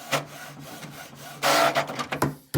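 Canon TS6520 inkjet printer printing a one-sided page: mechanical whirring and clicking with a low hum, then a louder burst of paper-feed rasping and rubbing near the end, close and clear.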